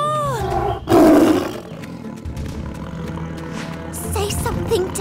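A cartoon tiger, Shere Khan, lets out one loud, close roar about a second in, set over busy background music and sound effects.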